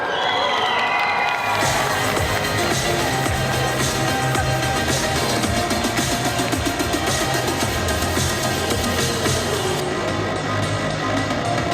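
A convention crowd cheers and applauds a solo cosplay contestant dressed as Marcus Phoenix from Gears of War, a loud sustained roar of shouts and clapping filling the hall with no break.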